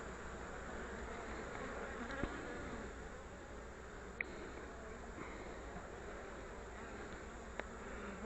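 Honeybees buzz steadily at an open hive while the bees are moved up into an empty deep box to draw out comb, a dense, continuous close swarm hum with a few faint clicks and no talk.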